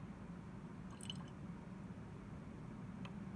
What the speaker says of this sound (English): we're going to rinse out our beaker